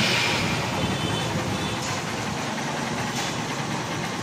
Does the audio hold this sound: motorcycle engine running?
yes